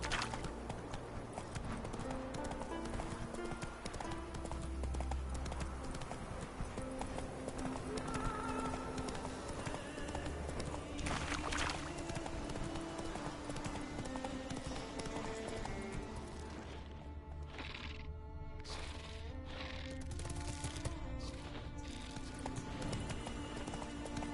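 Roach the horse clip-clops along in The Witcher 3, a steady rhythm of hoofbeats under continuous game music and ambience, with birdsong and a brief neigh in the mix.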